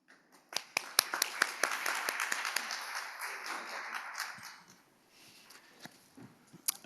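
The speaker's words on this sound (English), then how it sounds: "please give a big round of applause" Scattered audience applause at a 2018 press briefing for the AERGO debut in Seoul, with distinct individual claps swelling into a brief quiet patter, then thinning to a few stray claps, fairly distant.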